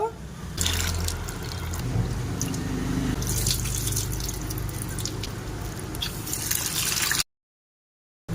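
Chickpea lentils (cholar dal) being washed in water make close splashing and trickling, with water running and dripping for about seven seconds before the sound stops.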